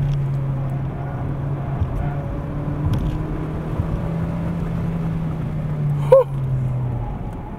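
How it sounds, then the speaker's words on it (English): A front-wheel-drive sports car's engine drones at a steady, sustained pitch while cornering hard at full throttle on a race track, with interior road and wind noise and a brief sharp clunk near the end. "I'm turning the corner, I'm flooring it, and I'm hearing it rev"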